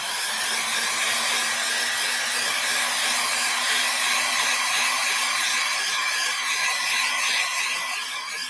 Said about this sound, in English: let's blow dry that gold